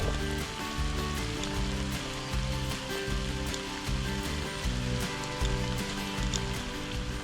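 Steady rain patters across a surface on a hiking trail in Yamaska National Park, a dense even hiss with soft drips, continuous and fairly close, with no voices.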